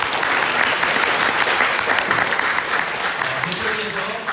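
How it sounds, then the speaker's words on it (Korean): Sustained applause from an audience at a redevelopment project briefing in Cheonho-dong, honoring the project's committee members; steady dense clapping fills the hall throughout, with faint voices mixed underneath. "추진위원님들께 큰 박수 부탁드리겠습니다"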